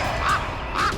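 A pet bird, crow-like in tone, calls twice with harsh, nasal caws spaced about half a second apart, fairly close and alone.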